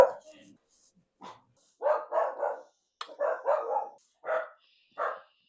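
Dogs bark in short excited bursts, several barks in quick succession with brief pauses, fairly close and loud.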